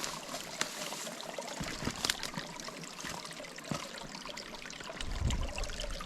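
Creek water runs steadily near a small beaver dam in the woods, a continuous broad rushing trickle with a few brief splashes and a louder low gurgle toward the end.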